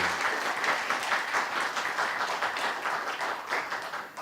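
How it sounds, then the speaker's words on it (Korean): At a Korean education awards ceremony, the audience gives a professor a big round of applause, with steady, moderately loud clapping that continues throughout. "수고해 주신 윤평준 교수님께 다시 한번 큰 박수 부탁드리겠습니다"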